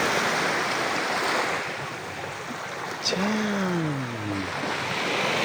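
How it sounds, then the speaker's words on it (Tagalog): Calm sea at Puerto Galera beach, a steady soft broadband wash of gentle surf close by, with a brief spoken exclamation and a low gliding tonal sound partway through. "Tahimik yung dagat ngayon."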